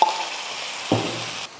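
Ground ginger, garlic and green chilli paste dropped into a pan of fried onions for an egg gravy: a sharp hiss, then a fresh burst of sizzling that carries on loud and close before suddenly dropping off.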